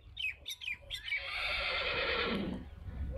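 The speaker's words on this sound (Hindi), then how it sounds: "ये पिछे घोड़ी बोलती पई है?" A racing mare at a horse market gives a loud, drawn-out neigh that rises and then trails off, close by, after a few short squawky calls. No one speaks.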